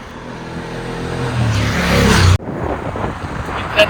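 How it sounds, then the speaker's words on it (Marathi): A car drives along a hill road in Mahabaleshwar. Its engine drones and rises steadily, then cuts abruptly to a rougher rumble with wind and road noise, loud and close from inside the vehicle. "आता मॅडम गाडी चालवते ते"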